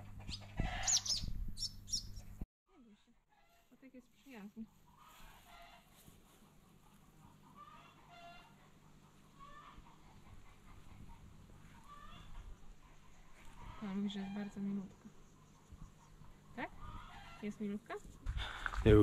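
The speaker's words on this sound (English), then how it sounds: "Chickens are wondering what's going on." Chickens cluck and chirp intermittently at close range, with a brief loud burst at the start and people talking softly in the background.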